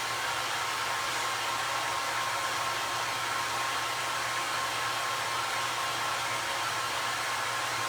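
A hair dryer blows on a no-sew primitive elf Christmas stocking with a constant, even whooshing drone and a low motor hum, unbroken throughout.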